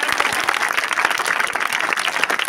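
An audience at a magic show breaks into dense, steady applause, many hands clapping together in a continuous patter that holds at an even level throughout.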